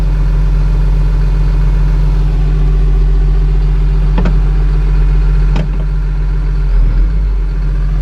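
Winch winding in on a John Deere 700K dozer with a newly installed 4000-series winch, heard as a loud, steady low engine and hydraulic drone with a few sharp clanks, close up.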